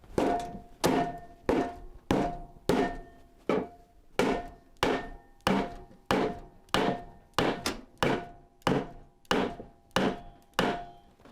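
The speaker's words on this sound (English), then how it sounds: "I've got my soft leather hammer side." Repeated dull thumps of a soft leather hammer striking a washing machine bearing, about fourteen evenly paced blows, close and fairly loud with no talking.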